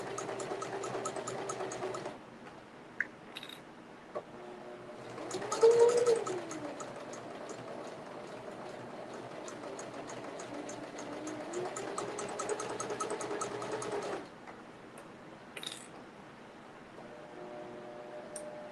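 A sewing machine stitching fabric for a child's purse whirs in steady runs with brief stops, fairly quiet and close, with someone speaking softly between runs.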